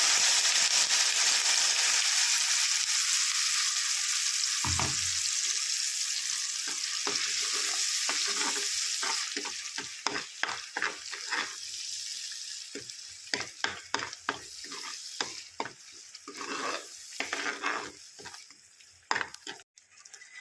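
Ground masala paste is dropped into hot oil with curry leaves for a fish curry, starting as a loud, broad sizzle that settles into repeated close stirring scrapes and crackles.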